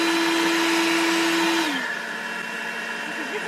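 A WorX 40V battery yard blower whines loudly with a steady high-pitched motor tone, then winds down abruptly to a softer whir partway through.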